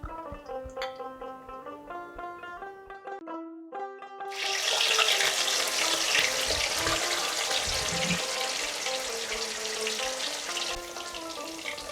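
Katla fish pieces fry in hot mustard oil, a loud, steady sizzle that starts suddenly partway through and keeps crackling, with a music track playing under it.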